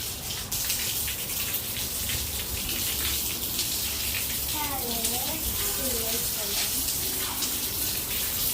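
Water sprays steadily from a hose while a balcony is washed, a continuous loud broadband hiss throughout, with brief faint voices underneath.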